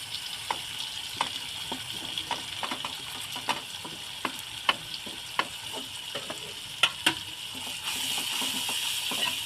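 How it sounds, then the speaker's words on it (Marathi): Red chili masala and spices sautéing in hot oil for a dry prawns curry, a steady close sizzle with repeated light stirring taps throughout, no voices. "मसाले तेलामध्ये परतून घ्यायचं"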